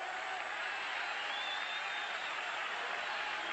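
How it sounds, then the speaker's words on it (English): A large Kansas State Wildcat football crowd at a 1991 home game against Colorado roars and applauds in a dense, sustained wash of cheering that holds steady throughout. "the Wildcat crowd on its feet"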